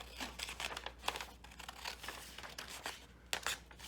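A paper show ticket from a Las Vegas show is cut out with scissors: a run of close, crisp snips and crinkles in an uneven rhythm with brief pauses, quiet and without talk.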